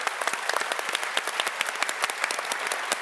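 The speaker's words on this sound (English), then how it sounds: "everyone who's been involved deserves a huge round of applause" Audience members at a climate-action career event clap together for everyone involved, a brisk, close run of individual claps forming short, lively applause.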